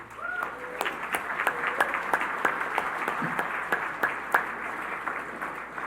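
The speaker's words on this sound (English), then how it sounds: "let's have an applause for Dwight." An audience at an awards gala claps steadily for several seconds, a dense patter of many hands at a moderate distance, with a brief tonal sound at the start.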